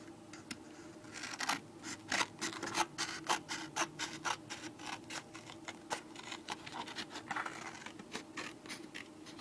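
Scissors cutting out the fronts of paper cards, a quiet run of rapid snipping and scratchy paper rustles in close succession, no voices.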